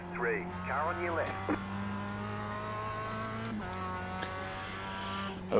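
Simulated race car engines roar steadily in a Charlotte sim race, with a rival car pulling alongside, a brief revving sweep early and a spotter voice speaking over the engine noise.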